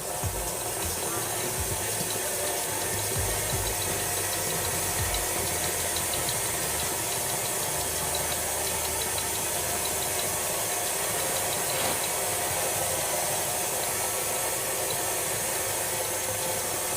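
An electric mixer creams butter and sugar at medium-low speed, making a steady whirring hum with faint rattling that runs evenly and continuously, with no talk.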